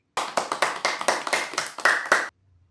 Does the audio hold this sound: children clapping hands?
yes